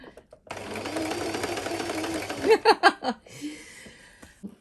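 A domestic sewing machine stitches link chain trim in one steady whirring run of about two seconds, then a few short bursts and stops as the fabric is handled; a faint voice occurs at the end.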